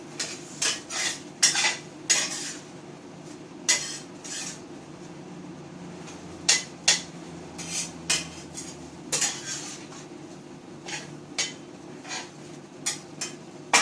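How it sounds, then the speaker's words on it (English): Metal utensil scraping and clinking against a pan while food is stirred, a series of irregular close clatters over a low background hum, no talking. "Give it a stir."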